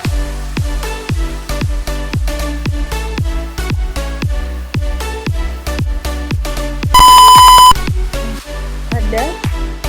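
A long, steady electronic piezo buzzer beep from a password security system signals a wrong password, sounding for about a second, loud and unbroken, cutting through a rhythmic beat of repeated percussive hits.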